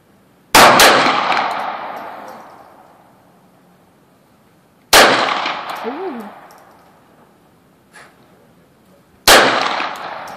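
Three sharp, loud gunshots from a Sig Sauer 1911-22 pistol firing CCI Mini-Mag .22 ammunition outdoors, spaced a few seconds apart, each with a ringing decay and no talk between.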